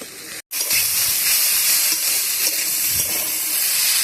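Potatoes fry in a pan with chopped tomato and garlic, giving a steady, loud, close sizzle and hiss that runs on without pause after one brief cut of silence near the start.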